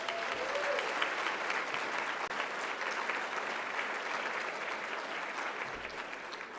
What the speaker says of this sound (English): let's give a big round of applause to those students